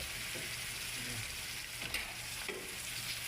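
Slit green chillies fry in a pan, giving a steady soft sizzle with faint stirring scrapes, quiet and close, no voices.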